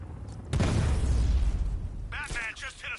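In Batman Arkham Knight, a serpent drone explodes with a sudden loud boom whose low rumble fades over about a second and a half. Game voices follow it.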